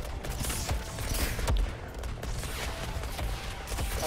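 Dense gunfire from the Suicide Squad: Kill the Justice League video game, with rapid overlapping shots and bursts that keep up loud and steady without a break, along with some explosive thumps, and no one talking.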